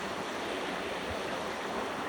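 The Louro river flowing past Orbenlle in Porriño gives a steady, unbroken rush of water, close and even in level throughout, with no voices.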